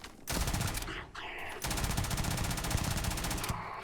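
Gunfire from the A94 type gun in Starfield: dense, rapid automatic shots that pause briefly, then resume as a sustained loud burst near the end.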